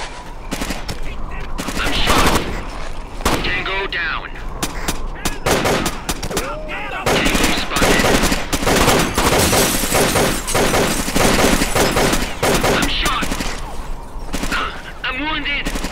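Gunfire in the tactical shooter Rainbow Six Lockdown on a desert village map: loud, dense bursts of automatic rifle fire and single shots crackle almost nonstop, with radio-style squad callouts spoken over the shooting.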